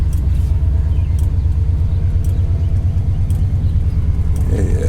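A 1996 Impala SS clone with aftermarket mufflers idles close by, a loud deep steady rumble with an even pulsing exhaust note.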